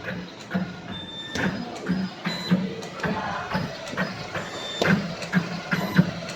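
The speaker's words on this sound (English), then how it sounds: "This is a cable making machine." A cable making machine runs in a factory with a steady mechanical hum and repeated clicking, clattering strokes at an even rhythm, fairly close and continuous, with no talking.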